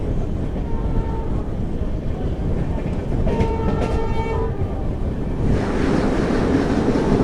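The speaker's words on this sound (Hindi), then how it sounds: "सामने आ गई जी वंदे भारत एक्सप्रेस" A Vande Bharat Express train passing, heard from aboard a moving train as a loud continuous rumble and rushing roar with brief tonal whines, the rush swelling near the end.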